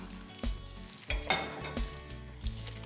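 Hands work seasoning into raw meat, giving wet squelching and slapping pulses every half second or so, close and moderately loud, with no talking.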